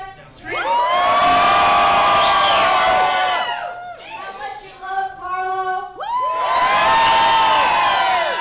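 A crowd of fans at a gathering with an actor erupts in loud, sustained screaming and cheering, dipping briefly before surging again in a second long roar.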